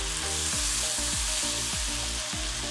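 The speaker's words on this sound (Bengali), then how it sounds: "আমি একটা করে মশলা দিচ্ছি আর অনবরত নাড়াচাড়া করছি" Ground coriander, cumin and turmeric sizzle and fry in oil in a pan while being stirred without pause, a steady close hiss with rhythmic scraping strokes roughly every half second, no talk.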